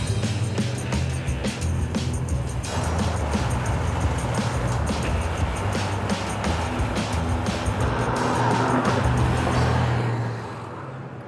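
A 1963 Corvette Sting Ray on the move gives a continuous engine drone with road and wind noise from inside the car, steady and fairly loud before easing off near the end, with no speech.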